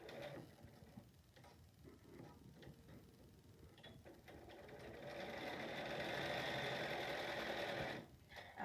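A sewing machine stitches a face mask, starting with soft fabric handling and clicks, then settling into a steady, moderately quiet mechanical whir that stops abruptly near the end.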